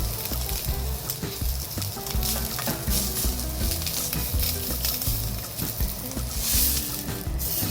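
Roast pork for chashu sautéed in a hot pan, with loud, continuous frying sizzle and crackle throughout, broken by frequent stirring and turning knocks close by.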